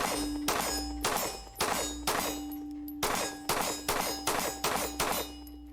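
Sharp metallic clangs ring out one after another as shots from a small Sarsılmaz SAR9 Gen2 pistol strike a steel target, about a dozen hits in an uneven rhythm, with no talking between them.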